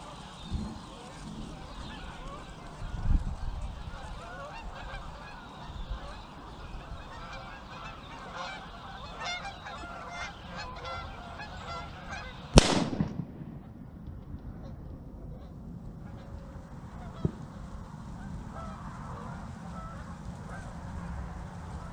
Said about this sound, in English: a group of geese flew over